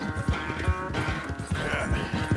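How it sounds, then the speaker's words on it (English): Horse hooves thud in a rapid, uneven galloping rhythm in the Red Dead Redemption 2 video game, moderately close beneath a steady wash of background game ambience, with no talk. "This horse is just fantastic."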